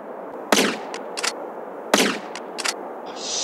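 Gunfire in the video game GTA San Andreas: two loud, sharp shots about a second and a half apart, each followed by a quick pair of lighter cracks, over a steady low background hum.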